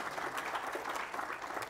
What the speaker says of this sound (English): My applause is almost as big as David's applause.